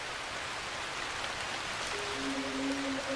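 Monsoon rain falls steadily on an Indian forest, a dense even hiss of drops, with a faint high tonal call entering near the end.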